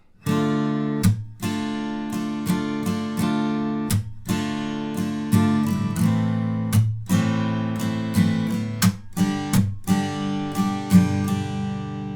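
Acoustic guitar strummed steadily through the chord progression of a song, rhythmic down and up strokes with brief muted breaks, played alone and close.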